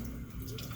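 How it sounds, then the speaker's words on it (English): Tap water runs steadily into a sink during handwashing, a continuous close splashing wash that fills the whole clip with no voices. "I want to make sure that my hands are pointed downwards so that the water is flowing down into the sink."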